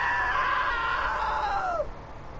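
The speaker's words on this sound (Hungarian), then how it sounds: "Now that was a great scream." A single drawn-out scream in the video game What Remains of Edith Finch, loud and close, holding a wavering pitch before sliding down and cutting off, leaving quiet background hum.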